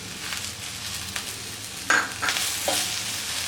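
Spices with mint and coriander leaves sizzle steadily in hot oil for egg biryani, with a spatula stirring and scraping through the pan in a few sharper strokes. No one speaks.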